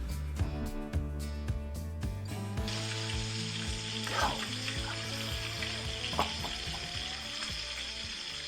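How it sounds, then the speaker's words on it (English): Chuck roast with dabs of butter sizzles on a Pit Boss Ultimate Griddle, a steady close frying hiss with crackles and pops, over a low background hum and occasional clinks, with no talking. "sometimes you just gotta listen to that sizzle and let it play"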